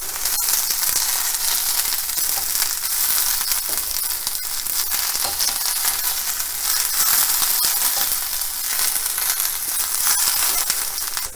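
Red onions sautéing in a little oil over medium heat, a loud, dense, continuous hiss and sizzle with faint crackles, close and steady, no speech.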